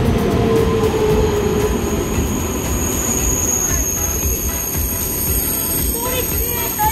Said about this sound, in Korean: 역시 동대구역에는 멋진 기차들이 많이 들어오는군요